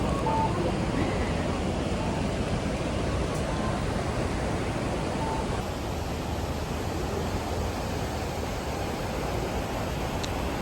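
The Kamo River in Kyoto runs high after rain as a steady, loud, broadband rush of flowing water that fills the whole stretch without letup.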